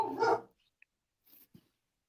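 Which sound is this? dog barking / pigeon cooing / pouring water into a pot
dog barking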